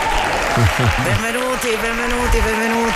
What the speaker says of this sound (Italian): È un applauso assolutamente sincero